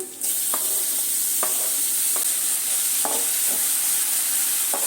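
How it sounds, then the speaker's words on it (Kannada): Onion and tomato frying in a pan, a steady loud sizzle with a few soft scrapes of stirring at intervals, no voices. "ಇದು ಚೆನ್ನಾಗಿ ಮೆತ್ತಗಾಗೋ ತನಕ ಹುರ್ಕೊಳ್ಳೋಣ"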